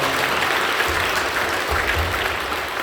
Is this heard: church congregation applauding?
yes